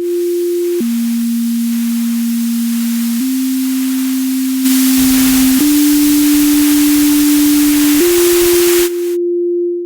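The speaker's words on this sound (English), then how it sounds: "Hiss." A sustained Eurorack synth tone stepping between pitches, joined midway by a loud wash of bright lo-fi hiss effect that cuts off abruptly near the end.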